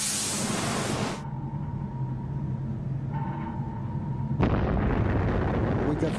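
Submarine torpedo launch and explosion: a heavy booming rumble fades into a low steady hum, then a second loud blast erupts and roars on, deep and forceful.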